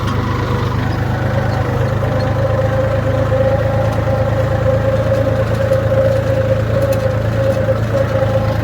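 A running tractor engine, a steady, loud, even drone with a low hum and no changes in speed, continuing without pause and with no voices.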